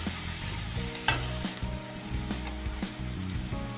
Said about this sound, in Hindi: इसको बारीक बारीक चॉपर में डाल के चॉप कर लिया। हल्का सा भून लेते हैं।